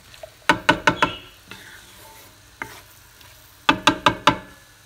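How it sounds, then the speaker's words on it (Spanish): Onion, garlic and tomato stirred in a frying pan, heard as two quick bursts of four sharp metallic taps of the utensil against the pan, with a few isolated clicks between over a faint background, close by. "Vamos a revolver la cebolla, el ajo y el jitomate."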